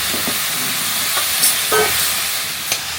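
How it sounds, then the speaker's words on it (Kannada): Sliced ridge gourd, onion and tomato are stirred in a hot pan, a steady sizzle broken by several sharp spoon scrapes and clinks against the metal, close and fairly loud. "ಈರುಳ್ಳಿ ಟೊಮೆಟೊ ಎಲ್ಲ ಚೆನ್ನಾಗಿ ಎಲ್ಲವನ್ನು ಮಿಕ್ಸ್ ಮಾಡ್ಕೊಳ್ಳಿ"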